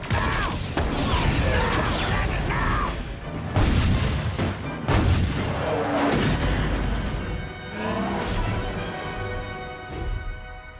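Artillery and gunfire aimed at the giant robot in the animated film The Iron Giant, with repeated heavy booms and crashes mixed with mechanical clanking and a swelling orchestral score, loud throughout.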